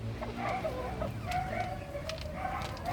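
Several chickens cluck and murmur nearby, a busy overlapping chatter with occasional higher calls, no talking.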